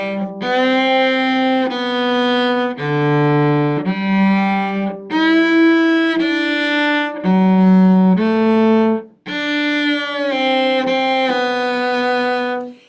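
A bowed cello plays a short phrase of sustained notes, some joined by smooth sliding pitch swoops, close and clear with no talking.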